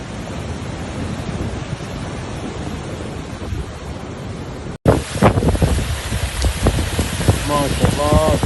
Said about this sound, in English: heavy rains have sent torrents of water cascading down into the cities below